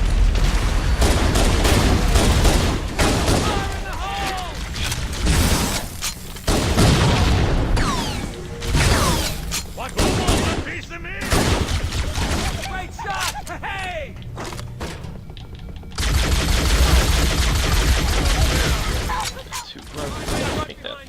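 Rapid plasma pistol fire from Halo: Combat Evolved on Legendary, shots crackling in quick bursts amid explosions and battle noise, loud and dense throughout with a brief lull near the middle.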